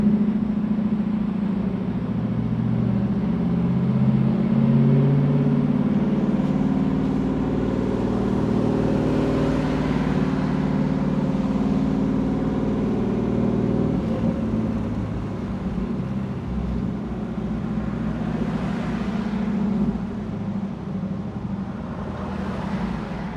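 A supercharged 650 hp LT4 V8 in a 1968 Camaro SS restomod with a six-speed drones steadily while driving in San Diego traffic. The low engine rumble is loud and continuous from the cabin, with no talk over it.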